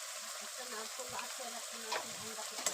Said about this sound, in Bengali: এগুলোকে ভালো করে ভাজতে হবে যতক্ষণ এর থেকে কাঁচা গন্ধটা না যায় ততক্ষণই ভাজতে হবে